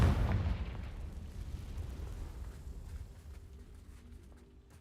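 A Confringo blasting spell explodes in the Hogwarts Legacy video game, starting with a deep booming blast that rolls into a long, low rumble and slowly fades away.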